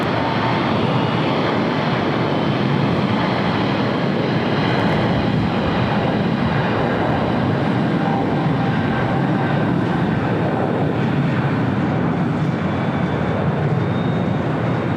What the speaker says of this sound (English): That will more than likely be a 25 left takeoff.